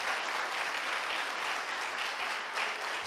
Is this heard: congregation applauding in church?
yes